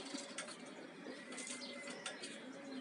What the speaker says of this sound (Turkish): dağ babası bir kuş